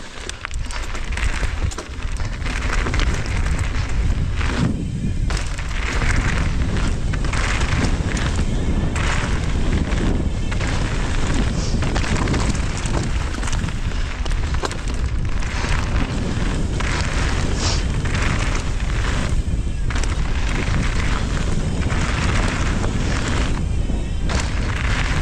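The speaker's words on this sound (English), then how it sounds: "Super windy." Strong headwind buffeting the microphone while mountain biking at Trexler Nature Preserve in Pennsylvania, a loud, continuous roaring rumble that lasts throughout with no talk.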